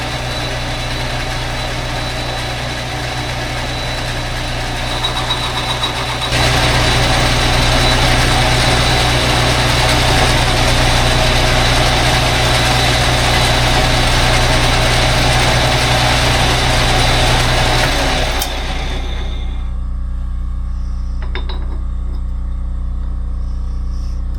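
A lathe boring a motorcycle cylinder, a steady mechanical hum that swells into a louder grinding whir while the cutter works, then drops back to a low idle near the end.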